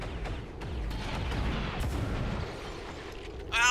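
Squad gunfire in the video game XCOM 2, a string of gunshots and booming impacts with rumbling blasts, moderately loud and continuous for several seconds.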